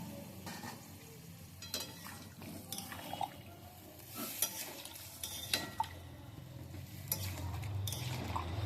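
Water poured into vegetables frying in a pan for a Bengali vegetarian shukto, giving a faint, soft sizzle with scattered clinks and scraping stirs, no voices.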